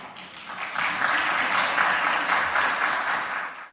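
Parliament deputies break into sustained applause for the adoption of a decision, a dense wash of clapping from many hands that holds steady for several seconds before cutting off.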